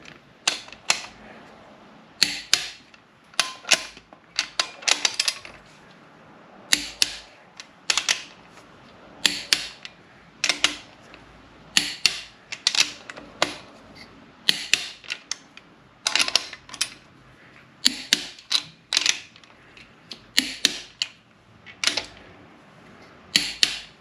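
A torque wrench clicking as engine bolts are torqued to 80 on an Acura Integra LS engine build: sharp, close mechanical clicks and ratchet strokes in bursts with short pauses between them.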